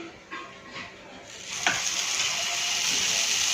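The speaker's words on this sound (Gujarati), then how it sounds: "હવે આમાં આપણે થોડું બેટર એડ કરીશું।" Adad dal chila batter hitting a hot nonstick pan, a sharp splash followed by a steady, bright sizzle that holds loud and close to the end.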